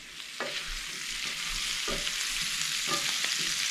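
Kohlrabi sears in a hot pan, giving a steady broadband sizzle throughout with a few soft clicks and scrapes of stirring over it, close and moderately loud.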